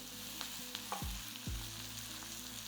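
Onions sauté gently in a pan for a Madurai-style peanut chutney: a soft, steady sizzle with a few low scraping stirs of the spoon, quiet and close.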